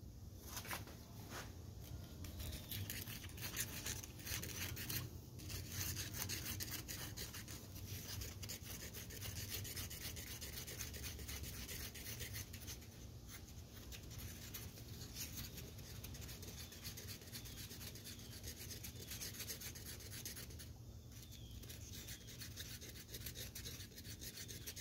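Powder being stirred into a glue mixture to form a paste in a workshop, giving a steady, continuous scraping and rasping rub that holds at an even level throughout, close up with no talk.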